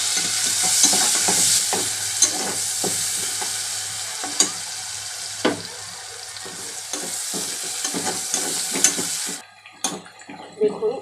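Green chillies and chopped onion fry in oil for noodles, giving a bright, busy sizzle with repeated sharp scrapes and knocks of stirring. Near the end the frying drops away and only a few clatters remain.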